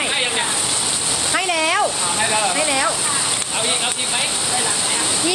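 Steady rain falls during a flood in Den Chai, Phrae, Thailand, making a dense, close hiss that runs throughout beneath people talking.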